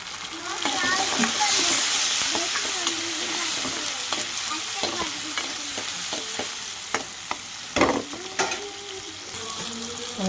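Onions and tomatoes fry and get stirred in a pan with a steady sizzle, while scraping and clinking sounds from the stirring come through at irregular intervals. Close and moderately loud, with a brief voice in the background.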